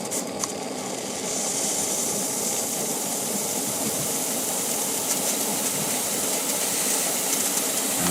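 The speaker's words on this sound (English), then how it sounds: "the steam's coming out at the bottom, just like in a real train" Steam hisses steadily from the open drain cocks of an Accucraft Southern Pacific 2-6-0 live steam model locomotive running on a rolling road, a loud continuous rushing hiss that rises after a brief quieter start.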